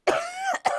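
A person coughs and clears their throat in two short close bursts, the first rough and drawn out, the second brief after a pause, with no talking.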